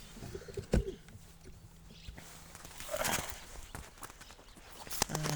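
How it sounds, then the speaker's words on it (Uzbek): Pigeons cooing softly in a yard, faint low coos with scattered wing flaps and clattering knocks around them. "Shu kaptarlar qoldi hozircha."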